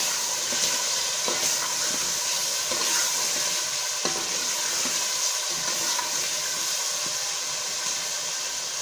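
Potatoes added to fried tomatoes in a pan for a kali mirch salan set off a continuous close sizzle and frying crackle, with a few brief stirring clatters scattered across it and no talk.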